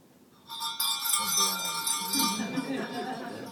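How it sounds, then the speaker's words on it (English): Sleigh bells jingle loud and close, a bright steady ringing that starts abruptly and carries on throughout, with voices murmuring underneath in a festive Christmas story setting. "The bells. The bells."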